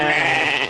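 A single sheep gives a short, loud, wavering bleat close by in a stone-walled herd enclosure in the Saghro highlands.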